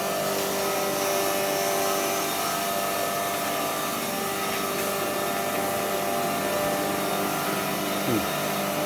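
A turmeric grinding machine runs continuously with a loud, dense, steady mechanical roar and a constant whine throughout, and no speech is heard.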